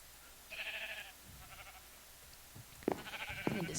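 Thunder sheep in the Minecraft video game bleating in two short, faint harmonic calls separated by a quiet gap, with a few soft clicks between them.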